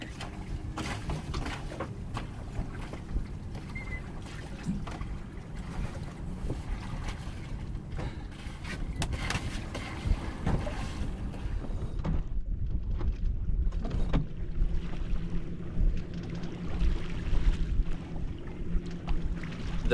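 Wind and water rush steadily around a sailboat under sail with the genoa rolled out driving it forward, with continuous low hull and wind noise and occasional creaks and knocks aboard, no voices.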